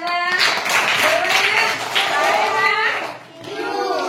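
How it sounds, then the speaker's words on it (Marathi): Children clap in a village school classroom during a lesson, a loose patter of hands running under the children's voices and chatter throughout. "शाबास टाळ्या वाजवा"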